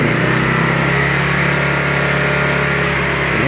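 A steady, loud engine drone from a Kings 2KVA portable generator under full load, with a low hum and constant roar, running continuously without pause and with no talking.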